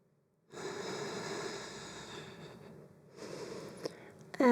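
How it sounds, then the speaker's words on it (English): Heavy, forceful breathing during a kundalini yoga pose, close up with a long, steady rushing breath, then a short pause and another strong breath, no talk over it. "Nice, heavy breath."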